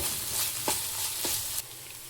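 Masala paste of ginger and garlic frying in oil for a bottle gourd dish, a steady close sizzle with a few soft stirring scrapes, then quieter near the end.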